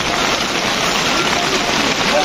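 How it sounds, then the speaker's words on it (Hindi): Heavy rain pours down in a steady, dense hiss on a trek to Kedarnath, filling the whole clip, loud and close with no letup. "बहुत तेज बारिश हो रही है"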